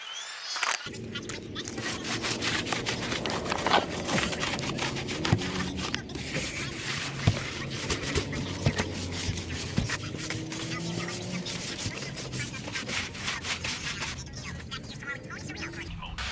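A metal fire pit in a paver-walkway landscaping setting is scrubbed and rinsed, giving continuous close scraping, brushing and rubbing strokes with water noise, while someone talks over the work.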